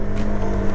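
A KTM 390 motorcycle engine held at constant throttle produces a steady droning tone with a whirring layer, close and unbroken for under a second.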